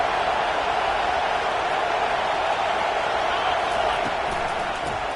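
Steady, loud stadium crowd roar at a college football game in NCAA '25, a continuous dense wash of cheering that holds throughout with faint commentary voices underneath.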